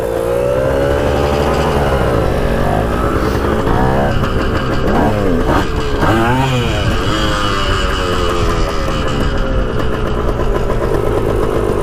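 Yamaha MX 175 two-stroke dirt bike running on mixed gas, its engine loud and close, idling and then revving up and down in several rising and falling sweeps for the whole stretch.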